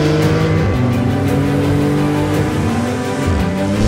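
A Porsche 911 GT2 RS sports car with 700 horsepower drives on the Australian Grand Prix race track, its loud engine note rising and shifting in pitch steadily throughout, close and continuous with no talk.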